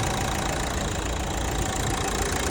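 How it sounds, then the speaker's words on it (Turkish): A used car engine idles steadily up close, a continuous even rumble with no talk over it. "Motor sesi çok iyi dedi."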